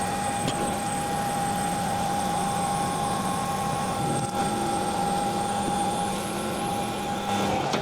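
Lathe making a final thread-cutting pass at 300 RPM on a steel powerlifting barbell with a 1 mm pitch thread, giving a steady, continuous machine whine and hum close by.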